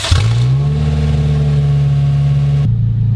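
A Honda K24 engine swapped into a Toyota MR2 idles loudly and close by with a steady, even drone, then its pitch drops slightly as the idle settles.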